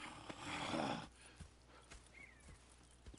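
Horse hooves clip-clop at a walking pace in Red Dead Redemption 2, a few distinct knocks spaced apart after a burst of louder rushing noise at the start.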